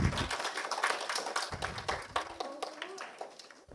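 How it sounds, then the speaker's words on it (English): An audience at a winter camp presentation claps for a team's homemade motor, a dense close round of applause with a voice speaking over part of it. "Clapping, clapping."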